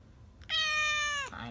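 A cat gives one long, clear meow at close range, followed by a softer, shorter mew trailing off at the end.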